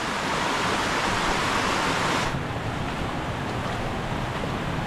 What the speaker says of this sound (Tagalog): Ayun po ang medyo malakas-lakas na baha.